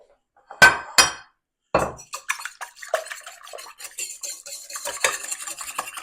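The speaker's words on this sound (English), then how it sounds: "Beat my eggs" Two eggs being beaten in a bowl: a few loud clinks at first, then a rapid run of fork strikes against the dish, close and continuous, with no voice present.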